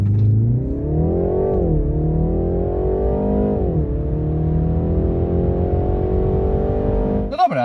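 A 2021 BMW 330i G20 with a 2.0 turbo engine accelerates hard during a highway run, its loud, close engine note climbing steadily and dipping briefly at gear changes before rising again.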